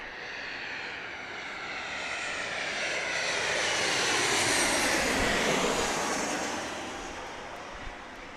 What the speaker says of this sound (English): Here comes a American Airlines